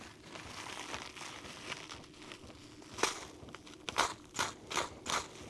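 Clean protective plastic film on van build parts is cut and crinkled, giving a run of close, crisp crackles and snips that grow busier toward the end, with no talk.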